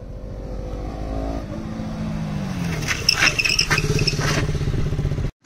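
A KTM Duke motorcycle without rear ABS brakes hard, its engine note falling away as the rear tyre skids, a loud close-range hiss and scrubbing that continues until the sound cuts off sharply at the end.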